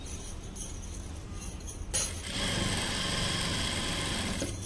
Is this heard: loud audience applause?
no